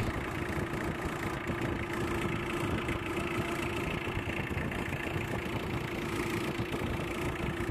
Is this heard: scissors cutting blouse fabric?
no